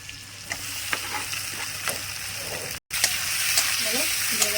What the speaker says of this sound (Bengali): এবার পেঁয়াজগুলো কষানো হবে